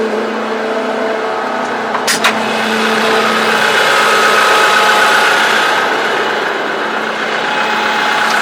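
A Zetor Major 80 tractor engine idles close by in a steady, loud, even drone, with a brief metallic click near the start and no talk.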